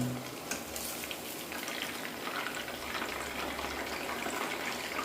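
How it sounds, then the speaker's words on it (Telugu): Chicken frying in a pan: a continuous, fairly loud sizzle with crackling bubbles, steady across the whole stretch and heard alone without talk. "చూడండి ఎంత ఎర్రగా మంచి చక్కగా వేగుతున్నాయో"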